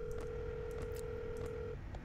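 Telephone dialing tones during a phone call in a horror video game, a run of short beeping key tones with a steady held tone underneath, fairly quiet.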